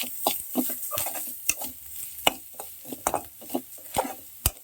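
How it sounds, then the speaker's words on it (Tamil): Grated coconut fries lightly in ghee while a spoon stirs and scrapes the pan, giving quick irregular clinks and scrapes over a soft sizzle, close up and without talk. "இப்போது நம்ம இதே நெய்யிலே வந்து தேங்காவை லைட்டாக போட்டு வறுக்க போகிறோம்"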